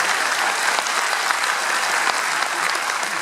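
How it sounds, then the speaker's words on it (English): A comedy charity show audience gives a loud, continuous round of applause, many hands clapping densely and close for a few seconds. "So thank you, give yourself a huge round of applause"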